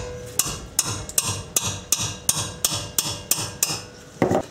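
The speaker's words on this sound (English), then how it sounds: "I have my wrench here and just tap it with the hammer" A hammer taps a box end wrench to break loose a bolt during a late-model Subaru wheel bearing and hub replacement: about a dozen sharp metallic strikes in a steady rhythm, close and clear, with no talk.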